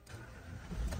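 A Nissan Almera engine, previously cranking only, cranks and catches into a low running idle. It is brief and fairly faint, and the rumble swells toward the end.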